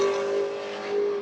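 A loud car on a race track at a BMW enthusiast track day drones steadily past at a distance, its engine tone holding a sustained hum with a slight swell near the end.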